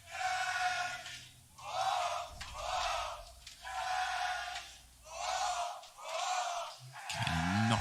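A large arena crowd at a CS:GO esports grand final chants in loud rhythmic waves, roughly once a second, swelling and fading in a repeated pattern.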